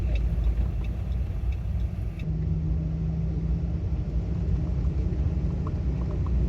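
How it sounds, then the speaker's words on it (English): A truck on a gravel road on an overland drive toward James Bay gives a constant low rumble of engine and tyres, loud and unbroken from cabin level. "This is what this truck loves to do, drive on gravel."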